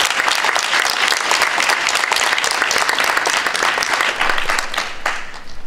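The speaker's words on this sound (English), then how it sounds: "So if everyone just give a round of applause for just all of those organizations that have been involved" Audience applause after a closing event, dense sustained clapping from a crowd that carries evenly for several seconds and thins slightly near the end.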